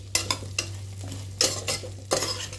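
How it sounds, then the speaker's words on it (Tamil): Shallots sautéing for a Tamil fish curry: a faint sizzle with several distinct bursts of spoon scraping and stirring against the pan, close by, no speech. "சின்ன வெங்காயம் வந்து நல்லா பொன்னிறமாக வர்ற வரைக்கும் நல்லா வதக்கி"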